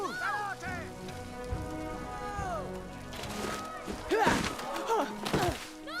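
Rain falls steadily in the background while voices shout and exclaim over it, with a few dull thumps mixed in.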